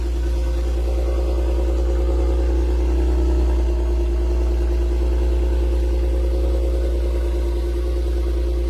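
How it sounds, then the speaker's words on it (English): A Maserati sport edition engine idles steadily close by, a deep continuous low rumble holding even for the whole stretch with no revving and no talk. "So this is how the Maserati sound."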